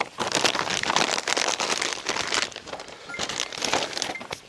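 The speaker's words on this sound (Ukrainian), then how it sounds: "дивіться, дощ пішов." Rain begins falling at a swampy fishing spot, a dense, crackling patter on a nearby surface that holds steady and close throughout, with no voices.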